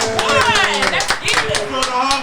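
A small audience claps to congratulate a graduating high-school student, a brief burst of close, scattered hand claps mixed with voices talking and cheering over it.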